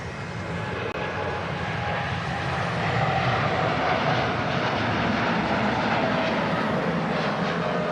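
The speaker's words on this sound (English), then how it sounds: "And the TUI Dreamliner is actually holding. In fact, it's going to go out first. Yeah, TUI Dreamliner's next out. Now rolling on 2-3 right." A TUI Boeing Dreamliner jet rolling for takeoff at Manchester Airport, a broad, steady engine roar at moderate distance that swells slightly after a few seconds and holds for the rest of the clip.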